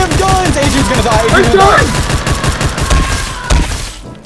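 Rapid bursts of gunfire crackle in a Roblox horror game, loud and close, with excited shouting voices over the shots.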